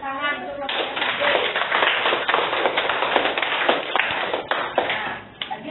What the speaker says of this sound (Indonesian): Kita berikan tepuk tangan untuk kelompok Pak D.